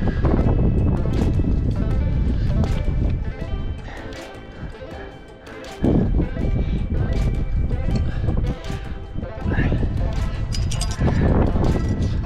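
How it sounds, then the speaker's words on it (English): Strong wind gusts on a trad rock climb in the McDowell Mountains near Scottsdale, Arizona, buffeting the microphone with loud, roaring surges that dip briefly midway before rising again. "And the wind is picking up."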